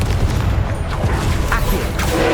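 A Confringo spell blast goes off in Hogwarts Legacy, a loud, dense booming burst of crackling, rumbling noise that fills the whole moment.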